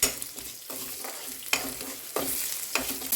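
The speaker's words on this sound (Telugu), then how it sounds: "ఆనియన్స్ ఫ్రై కావాలని వెయిట్ చేస్తున్నా" Onions and plenty of garlic, salted to speed browning, fry in a hot pan with a steady sizzle broken by a few louder bursts of stirring, close and alone.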